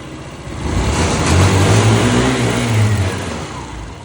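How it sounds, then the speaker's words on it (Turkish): A car engine, fitted with a Volta PS3 80/50 software tune, starts up and revs, rising to a loud, steady mid-pitched roar that holds for a few seconds before easing off, close by and alone. "Motorumuzu çalıştırıyoruz."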